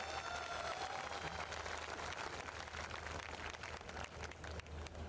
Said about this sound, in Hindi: बहुत जोरदार तालियां चाहता हूँ